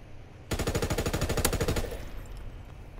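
Automatic gunfire from a weapon in the World War II shooter Call of Duty WW2, a loud rapid burst of about a dozen and a half evenly spaced shots lasting over a second, then fading into quieter game ambience.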